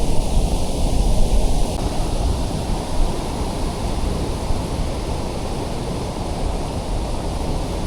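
Kondeshwar waterfall pouring in the rain, a steady loud broadband roar of rushing water that stays constant and close throughout, with no voices.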